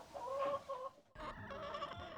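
Chickens raised outdoors on a farm cluck nearby, a few short, clear rising calls followed by a busier stretch of softer overlapping clucks and scratchy outdoor noise.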